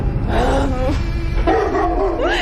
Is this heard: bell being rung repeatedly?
no